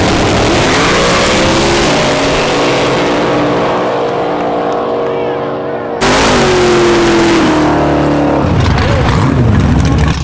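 Street race cars launching hard at a legal street race, a Mustang among them: loud engines roar and rev up with rising pitch, one run cutting off and another launch following close by.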